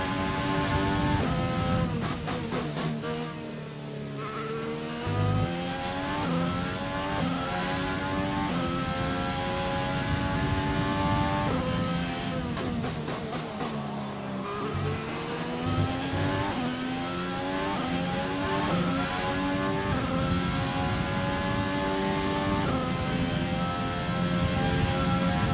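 A Formula 1 car in the racing game F1 2020 runs flat out at full throttle: a loud, continuous high-pitched engine scream that rises through the gears, with brief dips at two upshifts, alone and without talk.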